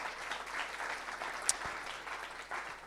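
An audience applauds the organizers at an evening talk event, steady moderate clapping from a room of people with one sharp louder clap standing out midway.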